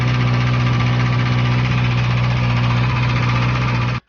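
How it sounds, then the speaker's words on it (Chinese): Kawasaki ZX6R motorcycle engine on a cold start, running steadily with a low, rhythmic rattling knock from a long chain, loud and close, then cut off abruptly. "如果链条比较长的话，它那个冷车启动那个声音就跟敲缸一样"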